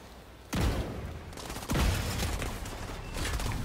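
Grenade blasts and gunfire in the shooter game The Division 2, with two sharp explosive bursts about a second apart followed by continuing rattling fire, fairly quiet overall.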